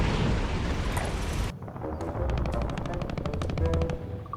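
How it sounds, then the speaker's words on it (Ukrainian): Rapid bursts of automatic gunfire with loud booming blasts in Call of Duty Warzone, a dense rattling volley of shots filling the scene, up close and loud. "Стріляють"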